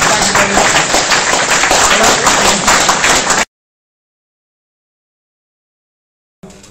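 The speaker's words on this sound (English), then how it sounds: "Come on, we've got to give a round of applause." A courtroom crowd at a common law court session in Birmingham breaks into loud, sustained applause for several seconds, dense and steady, then stops abruptly into silence before a brief burst of noise returns.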